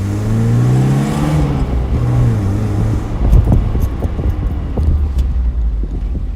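A 1986 Alfa Romeo Spider Quadrifoglio with an 8-valve fuel-injected 4-cylinder engine revs up and down with rising and falling engine tones, then settles into a rumbling run with wind noise, fairly loud and close.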